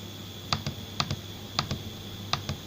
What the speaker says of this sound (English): I'll just hit delete on the keyboard